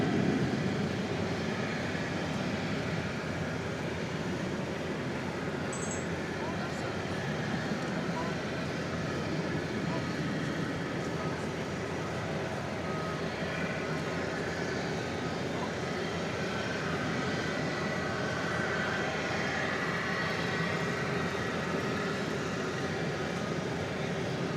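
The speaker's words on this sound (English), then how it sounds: "Sounds like we've got a UPS plane" A UPS cargo plane's engines run at DFW Airport at night, a steady broadband roar from a distance that holds evenly throughout.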